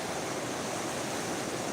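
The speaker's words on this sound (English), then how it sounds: "Look how rough the water is over in here." Rough river water rushing loudly beside a riverfront park with a swinging bridge, a dense, constant roar of churning flow filling the whole clip with no voices.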